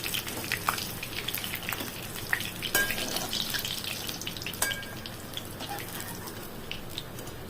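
Steady crackling sizzle of chicken lollipops frying in hot oil, with scattered pops and a few faint clinks of a utensil, continuous throughout.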